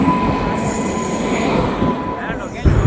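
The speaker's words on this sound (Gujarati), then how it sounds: "હા હવે ટ્રેન આવી." A train pulling into a station, its wheels giving off a loud, sustained high-pitched squeal over the steady rumble of rolling cars, ending with a brief clank.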